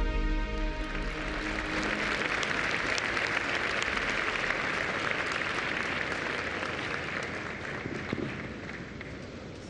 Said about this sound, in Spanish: Recibámoslo con un afectuoso aplauso.